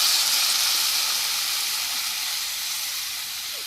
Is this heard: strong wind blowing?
no